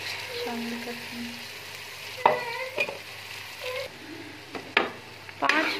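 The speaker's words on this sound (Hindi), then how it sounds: "5 मिनट इसको मैं इस मसाले के अंदर अच्छी तरह भूनूंगी।" Moong dal frying in masala with desi ghee sizzles steadily close up, broken by several sharp scraping stirs of a spoon against the pan, with no talk.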